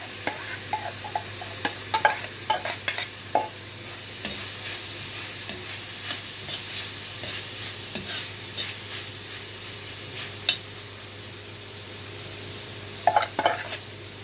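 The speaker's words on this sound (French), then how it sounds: "c'est juste pour saisir les légumes, mais absolument pas pour dégager toute l'eau de mes légumes" Vegetable and paneer filling with garlic sautéed briefly in a pan, a low continuous sizzle punctuated by repeated sharp scrapes and taps of a utensil against the pan, close and without talk.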